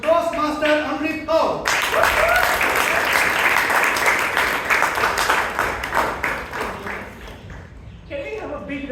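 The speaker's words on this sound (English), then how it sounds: "Put your hands together to welcome our role model president who leads by an example, Toastmaster Amrith." Audience applause welcoming the president at a Bangalore Toastmasters club meeting, a dense burst of many hands clapping that holds steady for several seconds and then tapers, with talk heard briefly before and after.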